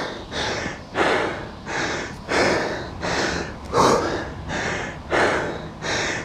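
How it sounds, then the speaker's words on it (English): Heavy, rhythmic breathing from a rower at maximum effort on a rowing machine, about eight loud breaths each lasting a fraction of a second, close to the microphone. "breathing is getting a lot harder to catch"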